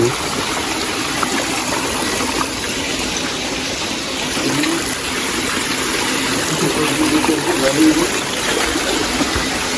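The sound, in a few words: running water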